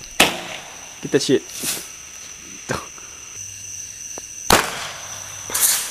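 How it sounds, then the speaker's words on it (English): Roman candle fireworks fired at targets outdoors, several sharp pops and crackling bursts spaced irregularly, with a person talking between shots. "what we got going here is Roman candle target practice"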